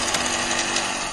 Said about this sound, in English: to get used to the chainsaw.